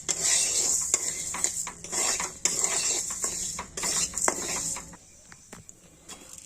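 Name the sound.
dry-roasting lentils in a pan, stirring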